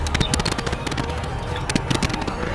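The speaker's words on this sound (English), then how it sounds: "Why is the pump the slowest shot?" Rapid, dense crackling gunfire bursts from a pump shotgun in the video game Fortnite, loud and close, with sharp shots layered over busy game noise during a box fight.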